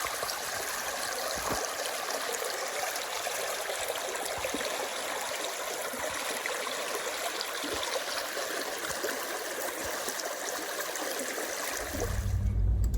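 A small creek flows nearby with a steady, even rush of running water that holds level throughout, and a low rumble rises near the end.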